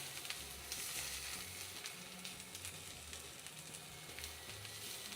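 Protein searing in a hot pan for Spanish paella, a steady close sizzle and crackle of frying that holds at an even level throughout, with no talking.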